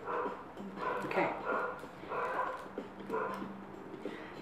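Several household dogs bark in repeated bursts at a moderate distance, the yapping coming in three or four clustered volleys with brief pauses between.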